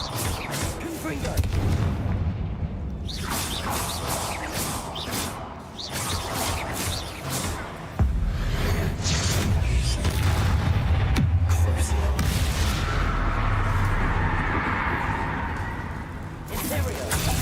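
Confringo fire spells blast in the video game Hogwarts Legacy, a series of booming, whooshing bursts and explosions over dense game noise, with a voice speaking over part of it.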